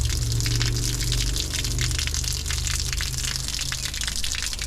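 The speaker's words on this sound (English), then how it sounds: "We'll just let that drain out." Water gushing out of a rain gutter drain that was blocked by roots, a loud continuous rushing flow close by with no pause.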